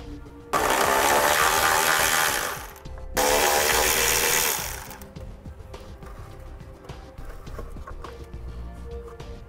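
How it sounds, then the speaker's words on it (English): A ratchet with a 10 millimeter socket removes a nut on a 2015 Kia Soul. Two loud, close bursts of rapid ratcheting are followed by quieter scattered clicks. "I'm going to be using a 10 millimeter socket to remove one nut here"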